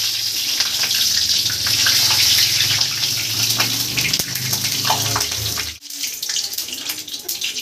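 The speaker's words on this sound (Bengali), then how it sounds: "তেল আমার গরম হয়ে গেছে, দিয়ে দিলাম গোটা গরম মশলা।" Whole garam masala spices dropped into hot oil, a loud continuous close sizzle and hiss that drops off abruptly near the end and then resumes more quietly.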